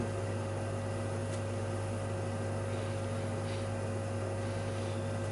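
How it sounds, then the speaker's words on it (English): Steady electrical hum from a home fridge, with a constant low drone and bright tonal lines running unbroken throughout, fairly quiet and alone without speech. "Forgive the sound of the fridge, boys and girls."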